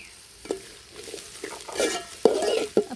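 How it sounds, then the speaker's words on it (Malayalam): Shallots and onions frying in hot oil after mustard seeds for Kerala beef varattiyathu, a gentle sizzle punctuated by several scraping stirs of a spoon against the pan, close and clear without talk. "കടുക് പൊട്ടിച്ചതിന് ശേഷം നമുക്ക് ഉള്ളി ഇട്ട് കൊടുക്കാം കേട്ടോ"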